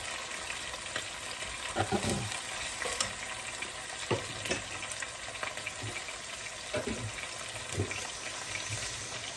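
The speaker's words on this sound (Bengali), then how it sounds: "মশলাটা একটু কষায় নিলাম" Spice masala stir-fried in a pan, a steady sizzle with repeated scraping stirs at irregular intervals, close and moderately loud, no speech.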